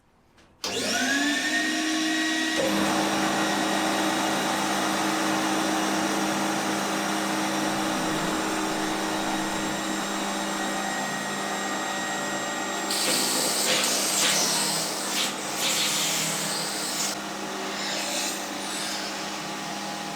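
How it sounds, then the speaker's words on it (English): A steady, loud machine whine of a power sander runs continuously, grinding a wooden floor panel for a Vauxhall Vivaro campervan conversion, with a slight change in pitch partway through. "sanding some of it off, trying it again, sanding a bit more off"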